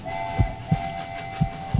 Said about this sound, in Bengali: শক্ত জমির উপর দিয়ে হু হু ছুটে চলেছে রাতের রেলগাড়ি